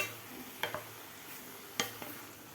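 Grated carrot stirred in milk in a pan for gajar halwa: a soft simmering hiss with a few distinct scraping spoon strokes against the pan, close and fairly quiet, without talk.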